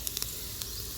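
A hot onion and garlic tempering is poured into massoppu sambar, giving a steady, moderately loud sizzling hiss with a few brief crackles and spatters over about a second.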